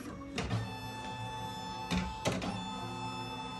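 An embroidery machine stitches black thread in the hoop on an in-the-hoop Minnie Mouse apple luggage tag, giving a steady mechanical hum with a few louder clacks and thumps along the way.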